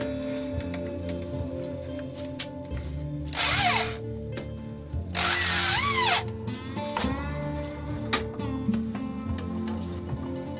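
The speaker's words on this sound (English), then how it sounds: "drill a hole in the center of the pin" Power drill boring a hole through the center of a metal pin, two loud sustained bursts of whining drilling with rising pitch, separated by quieter tool hum and light clicks.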